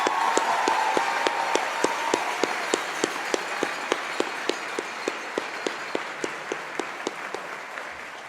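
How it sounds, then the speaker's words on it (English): A convocation audience applauds in a large hall, a dense, even wash of clapping with sharp individual claps standing out, slowly thinning toward the end. "join me in a round of applause and a thank you to Ella McDonald"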